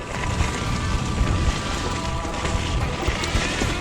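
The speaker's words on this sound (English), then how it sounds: "it is windy" Wind buffeting a mountain biker on a blue trail at Bike Park Wales in wet conditions, a loud continuous rushing roar close to the microphone with no talk.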